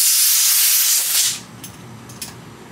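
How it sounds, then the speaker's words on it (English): Compressed air blasts loudly under a bicycle handlebar grip in a steady hiss for about a second, then cuts off, leaving quiet shop background with a couple of brief puffs. "another way you can do it is with compressed air."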